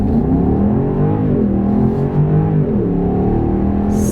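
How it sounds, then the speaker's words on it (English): A 2020 BMW M750i accelerates hard from a standstill under kickdown. The engine note is loud and continuous, climbing and dipping in pitch through the gear changes, with no talk over it. "I'm gonna set it to auto and I'm just gonna kick down and see how quick we get."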